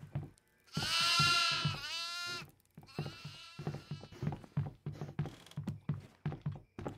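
Goats bleat from a cage in the horror game Devour: one long, loud wavering bleat opens, followed by a run of short, rhythmic knocking or hoof-like thuds and softer bleats.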